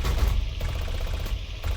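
Rapid machine gun fire from a P-63 warplane in a flight combat video game, a loud, dense, continuous rattle of shots with a heavy low rumble, close and unbroken throughout.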